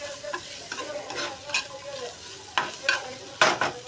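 Peas being stirred into a thick masala in a pan for masala toast, giving close sizzling with several sharp scraping strokes of a spoon at uneven intervals.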